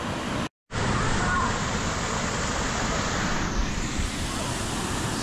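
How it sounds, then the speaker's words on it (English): Cambugahay Falls on Siquijor Island pours steadily at its third waterfall, a broad, loud, close roar of falling water after a short silent break, continuing evenly to the end. "So that's the top level of the third waterfall coming from the entrance"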